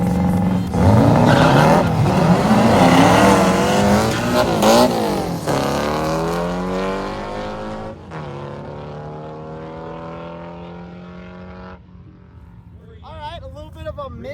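A Bug race car launches at a race week event, with a loud engine roar and squealing tires at first that fade into a rising, receding whine as it pulls away, and voices talking near the end.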